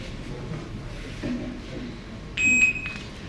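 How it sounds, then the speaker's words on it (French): A timer's steady high electronic beep sounds briefly near the end, over a low rumbling room background. "Le chrono va biper"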